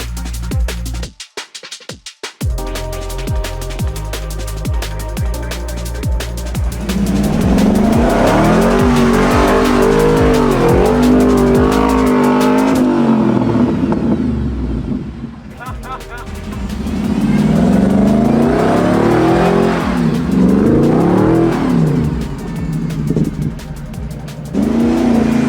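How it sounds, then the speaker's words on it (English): A 4WD vehicle revs hard while climbing a sand hill, its engine loud and close and rising and falling in long surges, with talk under the engine noise. "I decided to cruise up the sand hill and see what kind of condition it was in"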